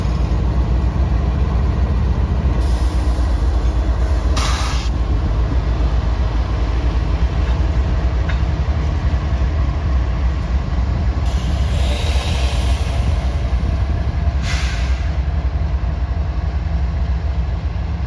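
A CSX freight train led by a rebuilt GE AC4400 locomotive passes, with a steady heavy rumble of rolling cars and a few brief high wheel squeals along the way.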